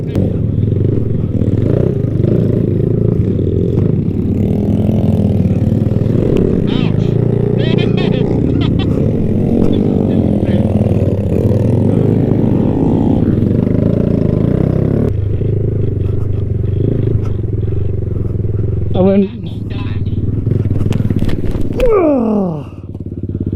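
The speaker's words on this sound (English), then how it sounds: "My bike turned off and then I like hit the gas and it cut back on" Dirt bike engine on a muddy trail ride, a loud continuous low drone rising and falling as the throttle changes, with clattering and scraping, and a rider talking and shouting over it.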